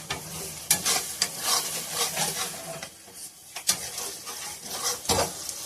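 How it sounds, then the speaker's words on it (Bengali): Goat meat fries in oil with cumin paste, a bright steady sizzle broken by repeated scraping and clinking strokes of a spatula stirring in the pan, close up. "আমি রুটি দিয়ে জিরে বাটাটা ভাজতে ভাজতে লাল হবে।"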